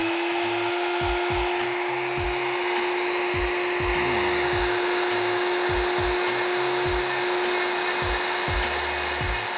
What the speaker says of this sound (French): je vais attaquer avec la petite fraise pour commencer à dessiner en fait les contours